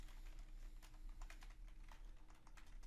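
Steady computer-keyboard typing while entering CSS code, a continuous run of quick key taps at close range with a low background hum and no voices.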